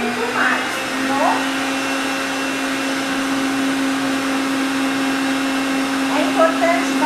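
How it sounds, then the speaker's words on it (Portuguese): Electric stand mixer whipping cake batter at top speed, a steady loud motor whine with a sustained hum running the whole time, plus brief faint clinks from the bowl. "É importante bater esse tempinho, velocidade máxima da batedeira"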